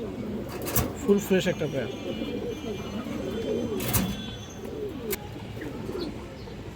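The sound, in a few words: pigeons cooing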